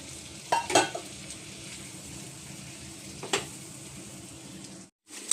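Fried potatoes tipped into a sizzling spice paste and stirred, a low steady sizzle with a couple of sharp spatula knocks, close by.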